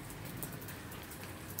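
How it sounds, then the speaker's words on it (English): Cold drizzly rain falling outdoors, a steady soft hiss of drops with no voices, continuous and fairly quiet throughout. "But it's raining out here"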